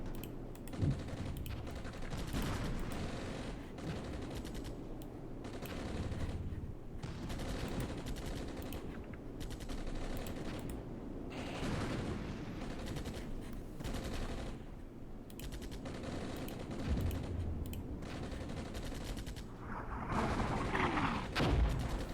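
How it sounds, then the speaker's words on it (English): Light machine gun crew firing in the video game Armored Brigade, urban battle in Grozny against Chechen rebels; dense, continuous bursts of automatic fire mixed with other gunshots and distant booms, loud throughout with no talk. "We've even got the light machine gun crew firing on them."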